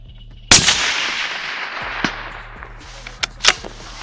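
A single loud rifle shot cracks close by at a shooting range, followed by a long decaying echo, then a few fainter clicks and knocks afterward.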